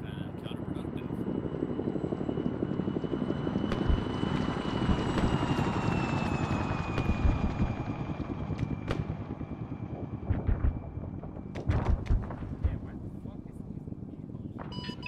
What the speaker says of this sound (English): It looks like we got friendly aircraft taking off from the airfield.